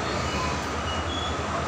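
A train rumbles steadily at Dimapur railway station in Nagaland, a continuous loud low drone with a faint metallic whine above it and no break.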